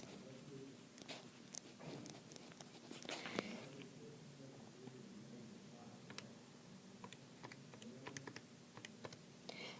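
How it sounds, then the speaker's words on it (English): Fingers tap out a sequence on a calculator keypad, a quick series of faint, close, irregular clicks with short pauses between keypresses in a quiet room. "In my calculator, I'm just going to type inverse tangent of 5/12."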